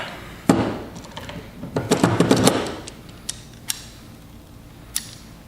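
A clamp is tightened by hand onto a freshly glued pen blank, giving a run of close creaking, ratcheting clicks that cluster in a burst and then trail off into a few isolated sharp ticks.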